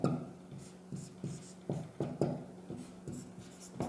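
Chalk or pen taps and scratches in short, rhythmic strokes as someone writes by hand during a maths lesson, faint and close, with no talking.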